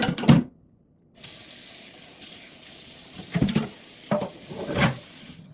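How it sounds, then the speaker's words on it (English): Tap water running into a sink while washing up after making carrot fufu, a steady close hiss of flowing water with a few louder splashes and clatters as items are rinsed. "I try to wash everything immediately because I don't like when it gets hard."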